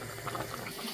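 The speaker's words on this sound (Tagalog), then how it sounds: "Ayun, kumukulo na." Soup water bubbling at a steady boil in a pot, a close, continuous churning fizz with small pops, no voices over it.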